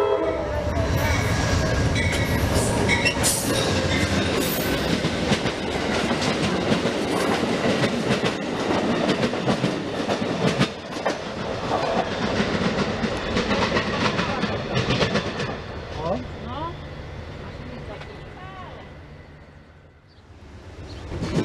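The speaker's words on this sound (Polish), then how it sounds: "jakaś inna lokomotywa." Locomotive-hauled train passing on rails, a loud continuous roar of wheels and clattering wagons with a horn sounding, close by and then fading away toward the end.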